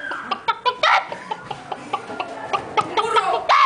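A voice imitating a chicken, producing a close, loud run of rhythmic clucks and squawks that quicken and rise toward the end.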